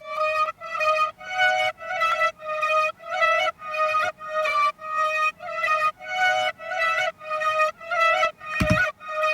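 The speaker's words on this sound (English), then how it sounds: "The algoza is a wind instrument very special to India." An algoza, a reedy Indian wind instrument, plays a repeating phrase of short, bright notes in a steady rhythm, with a brief low thump near the end.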